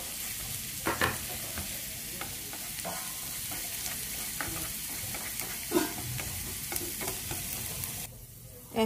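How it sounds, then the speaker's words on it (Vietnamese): Steady crackling sizzle of garlic and shallots frying in hot oil, with occasional clinks of a utensil stirring the pan, ending abruptly. "Các bạn cho tỏi vô, các bạn phi cho nó vàng thơm lên ha"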